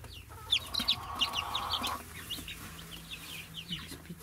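Rapid high-pitched peeping from young chickens in a brooder, repeated chirps at uneven intervals over a quiet background, with a brief low whirring hum early on.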